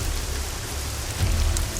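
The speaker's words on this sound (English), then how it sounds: "raindrops pelted the gravel surface" Heavy rain pelts a gravel road in a steady dense patter, swelling briefly louder with a low rumble partway through.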